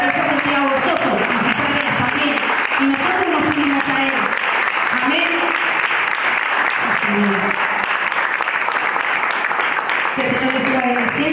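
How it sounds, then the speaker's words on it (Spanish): Loud, sustained applause from a church congregation, continuous clapping lasting over ten seconds with voices speaking over it at the start and near the end. "Un fuerte aplauso."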